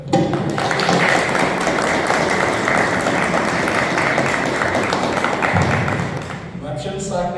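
Students applauding their teacher at a vocational education round-table in São Paulo, a loud, sustained burst of many hands clapping with scattered taps and thumps, fading toward the end as a voice begins.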